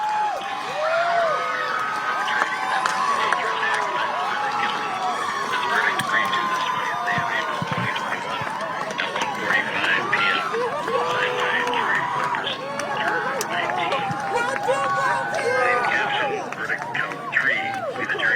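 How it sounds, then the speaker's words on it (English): A crowd reacts to the Chauvin guilty verdicts with sustained cheering, whoops and excited shouting from many voices, a continuous babble with rising and falling yells over nearly twenty seconds. "the reaction of some of the crowd as they heard about the verdicts"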